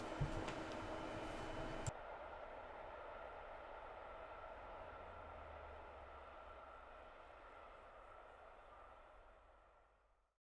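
A steam locomotive passes with a diesel bringing up the rear, a distant steady rumble and hiss that fades slowly away into silence, with a brief louder burst near the start.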